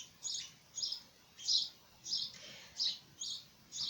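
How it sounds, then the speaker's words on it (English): Small birds nesting in a workshop roof chirp faintly in a series of about seven short, high tweets at a regular, quick rhythm, with only quiet room tone between them. "If you can hear chirping, I've got birds nesting in the roof of my workshop."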